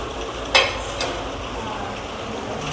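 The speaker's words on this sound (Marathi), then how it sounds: "थोडंसं मी तव्यावर तूप टाकते" Ghee hitting a hot griddle pan and sizzling, a brief sharp hiss at the start followed by a steady low crackle under light background noise.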